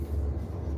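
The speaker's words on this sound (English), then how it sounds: "here comes the train." A train rumbles in a steady low drone, moderately loud and continuous with no voices over it.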